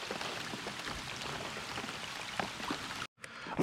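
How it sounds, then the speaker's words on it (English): Steady rain pours down around a bass fishing boat, a continuous close hiss of drops on water and surfaces with scattered louder patters, cut off briefly near the end. "it's back raining again"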